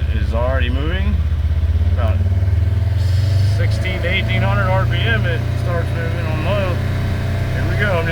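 A 2016 Polaris Ranger 900XP High Lifter Edition side-by-side in low gear pulls away, its engine droning loud and steady with rising revs close by while someone talks over it.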